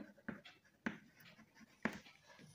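Pen writing by hand during a school maths lesson, heard as a few quiet scratchy strokes with three sharper taps from the pen, close and faint with no talking.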